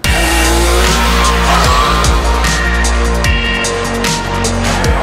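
A DSK Benelli TreK 1130 Amazonas with a triple-cylinder engine, ridden at a steady loud drone with rising and falling revs, its deep harmonic hum mixed with wind rush and no talking.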